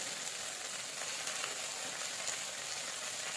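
Jute greens sizzle and fry in a hot pan with red lentils, giving a steady, even hiss with faint crackles throughout, close and moderately quiet, with no talking.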